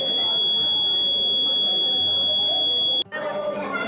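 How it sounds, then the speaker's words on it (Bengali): Buzzer of a school science-fair rain alarm project sounding a loud, steady high-pitched tone for about three seconds, then cutting off abruptly as crowd chatter continues. "এখানে একটি বাজার থাকবে ঘরের ভিতরে, এবং সেটি বাজতে থাকবে, এবং তার সঙ্গে ভিতরে একটি আলো থাকবে, অ্যালার্ম সিস্টেম হবে।"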